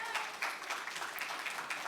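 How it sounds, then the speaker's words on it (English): Audience members clap after a startup investor pitch in Seoul, a brief, moderately quiet patter of applause from a modest crowd. "Please give him a big round of applause"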